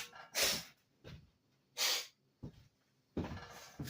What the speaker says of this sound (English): Let me just go and blow my nose in the fireplace.